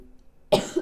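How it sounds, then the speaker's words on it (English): A single sharp cough from a sick person, close and fairly loud, breaking a near-silent pause with a short second burst after it. "Sorry if I cough a lot."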